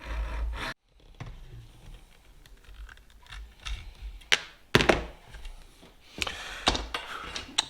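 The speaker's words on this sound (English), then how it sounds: "using a hacksaw on a suitable bench, we're just going to cut around this tube" A hacksaw cuts around a tube on a bench while a microlight wing is being covered, giving irregular rasping strokes and scrapes mixed with a few dull knocks, close up and with no voices.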